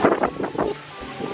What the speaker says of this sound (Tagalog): Lakas talaga na hangin dito.